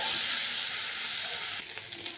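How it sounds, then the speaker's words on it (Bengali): Spices frying and being stirred in a pan over a low gas flame for a simple rural vegetarian dish, giving a steady close sizzle with faint scraping that eases slightly toward the end. "সকল মশলাগুলো খুব ভালোভাবে আমি এবার এর সাথে মিশিয়ে নেব যতক্ষণ পর্যন্ত মশলার কাঁচা গন্ধটা না চলে যাচ্ছে"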